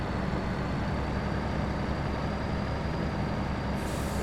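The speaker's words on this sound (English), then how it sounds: "Listen to that old Mac purr." An old Mack truck's engine runs at a steady, even idle, a continuous low rumble close by and alone with no talk, its pitch unchanging for the few seconds.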